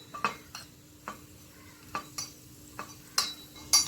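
Cashews roast in ghee in a pan, heard as a quiet steady sizzle broken by repeated sharp scraping and tapping strokes of a spoon stirring against the metal.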